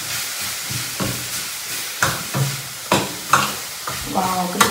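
Wood apple and jaggery cook in a pan on low heat, a steady soft sizzle broken by repeated stirring scrapes, close and moderately loud, with no talk.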